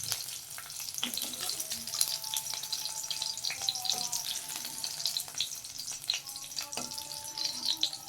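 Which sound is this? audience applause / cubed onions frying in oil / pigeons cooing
cubed onions frying in oil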